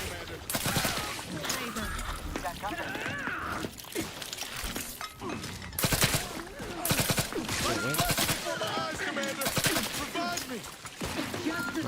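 Rapid bursts of gunfire and impacts in the video game Outer Worlds 2, dense and continuous across the clip with sharp cracks and clatter, mixed with a voice talking intermittently.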